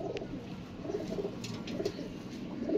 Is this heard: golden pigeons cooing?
yes